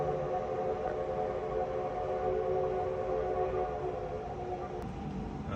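Maria Fumaça steam train in Garibaldi, Brazil, its long steady whistle or horn blast sustained throughout at moderate distance over a broad rumbling rail-yard background.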